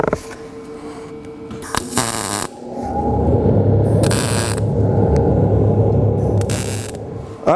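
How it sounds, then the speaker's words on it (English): Tack welds going onto an octagonal metal end table, with short broadband bursts of arc crackle separated by gaps over a steady low hum, fairly close and with no talking. "So we're gonna put our tacks now on our both sides and then we'll fully weld everything up."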